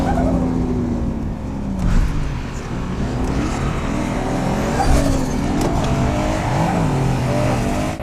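A turbo-built car accelerates hard on a test drive, its engine note climbing and falling through gear changes, with tire noise and bumps, loud and close for several seconds.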